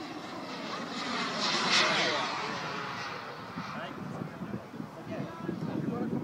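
A large RC jet glider with a 21 ft wingspan passing overhead at Long Marston, a whooshing engine roar that swells and fades as it goes by, with faint outdoor rumble and wind after.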